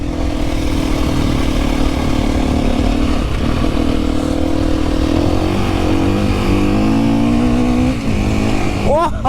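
A KTM 350 four-stroke dirt bike ridden on icy snow without studs, its engine droning loud and continuous with rising and falling revs close to the rider, a brief rev climb at the very end.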